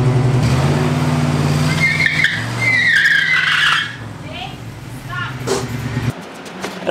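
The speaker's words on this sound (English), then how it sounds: "We'll give her a test in the garage real quick because my wife loves garage burnouts." A car does a burnout inside a garage: a loud revving engine roar with shrill tire squeals and skidding over about four seconds, then the engine drops to a rougher idle before cutting out.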